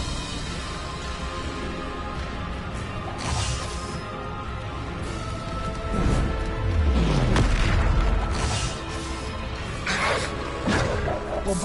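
Bombarda spell blasts in Hogwarts Legacy: several deep booming explosions with rumbling low tails amid steady game music and ambience, moderately loud.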